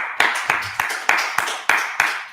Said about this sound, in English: Let's clap it up, man.